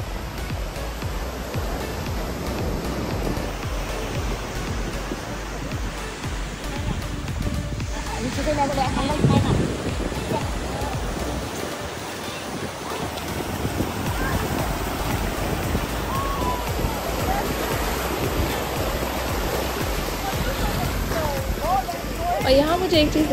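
Surf washing onto a clean beach in Phuket, Thailand, a steady broadband wash of breaking waves lasting throughout, moderately loud, with voices talking over it.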